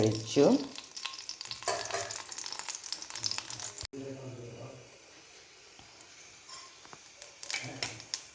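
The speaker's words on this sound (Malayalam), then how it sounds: "കടുകിട്ടു ഉള്ളിയിട്ടു" Mustard seeds and onion frying in a spoonful of oil on low heat, soft crackling sizzle with stirring and clinks, close by, alternating with stretches of someone talking.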